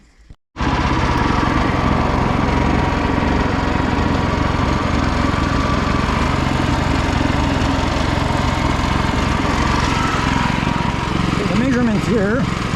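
A sawmill cuts a slab off a log, its engine roaring loud and steady for the whole stretch right after a short quiet start.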